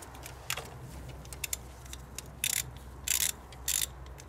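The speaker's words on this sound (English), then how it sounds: "Use a Torx bit to remove the pressure regulator bolts." Torx bit working loose the pressure regulator bolts on an engine, a series of small metallic ratcheting clicks and short scraping bursts close by, with several louder grinding spurts toward the end over low hum.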